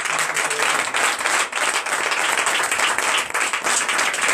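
A church congregation claps loudly and continuously at a Sunday service in Benin, dense applause with no gaps.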